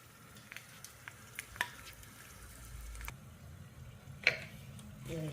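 Dried red chillies fry in hot oil in a wok, a quiet, steady sizzle with scattered faint ticks and stirring clicks, one sharper pop standing out near the end.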